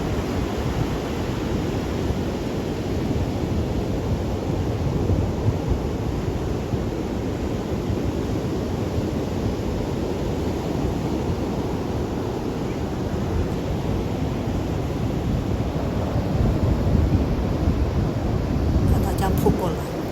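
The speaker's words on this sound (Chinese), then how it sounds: "一波接一波。" Sea waves on a beach roll in one after another as a steady, loud rushing wash with wind across the microphone, continuous and close.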